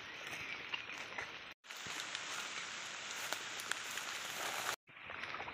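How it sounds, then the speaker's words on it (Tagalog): Rain falls steadily over farm fields, a loud continuous hiss and patter broken by two brief silent gaps, with no talking. "basa yung mga patuloy pa rin na ulan"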